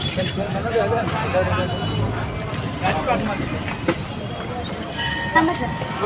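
Steady rumble and rattle of a moving train carriage, with people talking over it and occasional clanks.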